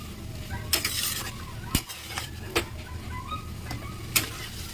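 Soybeans for a vegetarian soybean and potato dish sauté in a pan with a constant sizzle, broken by several sharp scraping stirs of a spatula at uneven intervals.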